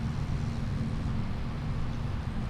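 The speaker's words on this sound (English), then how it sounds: "This will be a fair test of our new tractor" Tractor engine in the farming video game Ballyspring, a steady low rumbling drone that holds even and loud throughout without pause.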